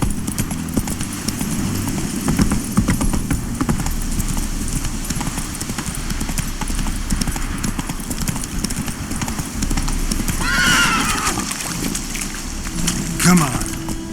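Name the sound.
horse Roach galloping in The Witcher 3 video game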